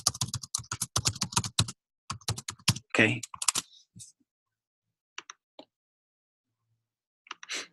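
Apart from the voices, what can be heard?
typing on a computer keyboard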